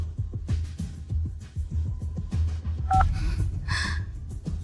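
A phone is dialed with a couple of brief keypad beeps near the end, over a steady rhythmic thumping backdrop.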